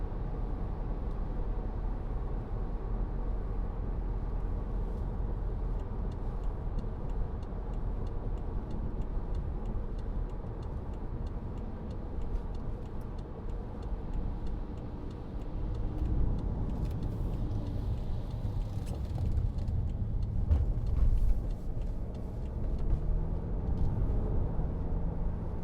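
BMW 520d M Sport four-door saloon cruising at 50 mph, a steady, quiet low road and engine rumble throughout, swelling slightly louder in the second half with some faint ticking, no voices.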